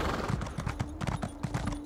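Steady clip-clop of a horse's hooves trotting in Elder Scrolls Online, an even rhythm of soft thuds with a faint steady tone running beneath.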